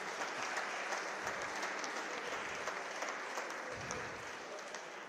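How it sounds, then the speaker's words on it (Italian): An audience at an international commemorative memorial event in Italy breaks into applause for the president, a faint, distant, continuous wash of clapping with no voices over it. "meriti un applauso strepitoso per quello che hai fatto"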